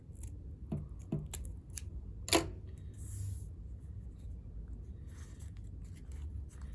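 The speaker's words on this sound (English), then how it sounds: "So grab your scissors and we'll cut along that pencil line." Scissors snip through red paper along a pencil line, a few crisp close cuts in a quiet room, one louder slicing snip standing out among softer paper rustles.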